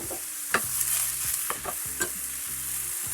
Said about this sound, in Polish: Jajko nam się smaży.